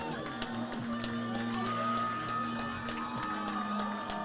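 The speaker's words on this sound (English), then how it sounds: "Crowd getting into it here." A crowd at a high school football game, Hudson Raiders versus DC Everest, cheers and shouts in a steady wash of distant noise, with occasional whoops and a low hum underneath.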